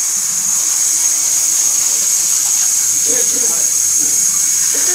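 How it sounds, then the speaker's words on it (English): Water sprays steadily from a hose or shower over a pet during a bath, a continuous close hiss running the whole time with a person talking faintly underneath. "How's this for a perfect Sparky shower"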